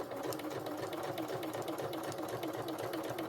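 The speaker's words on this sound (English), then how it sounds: "they call this edge stitching" A sewing machine edge stitching a dress seam hums steadily with a fast even needle rhythm throughout, close up and continuous.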